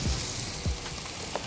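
Smashburger patties searing on a Blackstone griddle, a steady loud sizzle and hiss of frying meat with a few brief scraping thumps of a spatula, heard alone without talk.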